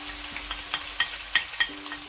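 Finely chopped onions frying in a pan while being browned, a soft continuous sizzle with several light clinks of a utensil against the pan, close and fairly quiet, no speech.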